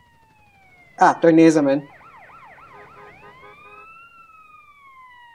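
Ambulance siren in the video game GTA San Andreas, a steady wailing tone sweeping up and down after a brief burst of speech, continuing moderately loud in the background.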